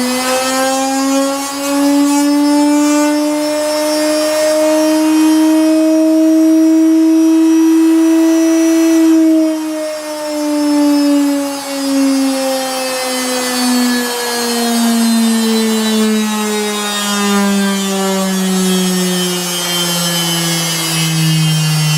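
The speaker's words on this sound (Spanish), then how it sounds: "El motor gira" A washing machine motor wired through a reversing switch spins with a loud, smooth electric hum that rises slightly, then slowly falls in pitch as it winds down, running alone throughout.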